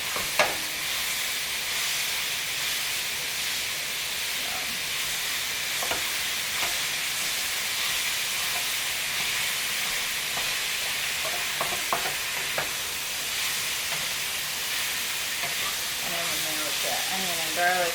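Onion, garlic and peppers sizzle loudly in a hot frying pan, a steady dense crackle with occasional stirring scrapes and clinks, carrying on without pause for the whole stretch.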